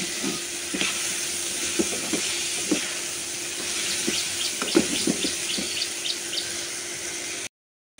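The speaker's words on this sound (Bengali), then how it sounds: "ভাতটা মার ঢাইলা নিচ্ছি।" Starchy water drains off a pot of cooked rice in a steady, close pouring rush with small splashes and gurgles, lasting about seven seconds before cutting off abruptly.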